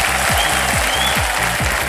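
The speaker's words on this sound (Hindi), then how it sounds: "ताली बज जाए जोरदार जरा।" Studio audience on the KBC quiz show breaks into loud, dense applause, continuous clapping filling the whole moment with no voices over it.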